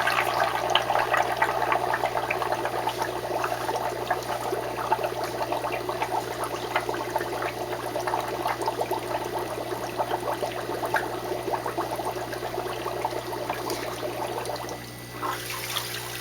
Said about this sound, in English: I'm gonna pour some fresh water in there.